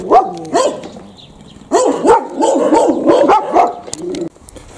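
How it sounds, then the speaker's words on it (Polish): Several farm dogs at rural homesteads bark loudly and close by in repeated rapid bursts, with a short pause before a longer, more continuous stretch of overlapping barking. "czy to musi być po cztery psy na jedno gospodarstwo jazgoczące"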